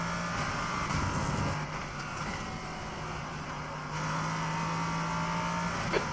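BMW M4 GT3 race car engine in the iRacing video game at Barcelona Historic, a steady loud engine drone with shifting pitch as it pulls through gears, sustained throughout with a small click near the end.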